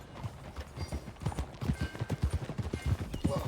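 Horse hooves in Red Dead Redemption 2 clip-clop in a fast, steady galloping rhythm, close and fairly loud, with faint game ambience behind.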